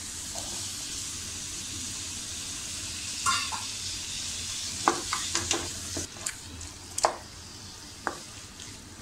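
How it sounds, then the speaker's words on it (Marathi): Capsicum sautéing on a hot tawa with boiled peas for tawa pulao gives a steady close sizzle, broken by scattered sharp spatula scrapes and clicks that grow more frequent toward the end, with no talking. "सिमला मिरची सुद्धा छान आपण यामध्ये परतून घेऊया"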